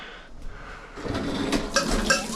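A cooking pot is pulled out and handled in a home kitchen for black bean chili, with a few metallic clanks and knocks against cupboard and counter sounds, close and moderately loud, no talking.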